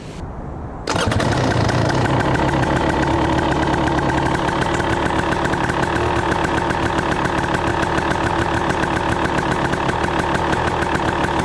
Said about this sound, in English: this is a cold start for you guys with the 2023 KTM 300 XC stock exhaust